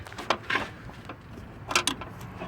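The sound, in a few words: wrench turning nut on Honda Accord V6 alternator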